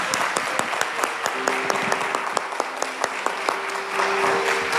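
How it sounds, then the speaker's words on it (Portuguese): A church congregation applauds, with a dense, sustained crowd clapping that holds steady throughout, accompanied by sustained tones. "Ele merece uma salva de palmas"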